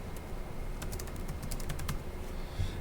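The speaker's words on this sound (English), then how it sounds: "I'll go ahead and click in and type my text there" Keystrokes on a computer keyboard while text is entered, a quiet run of light clicks that bunches into a quick burst midway, heard close over a steady low room hum.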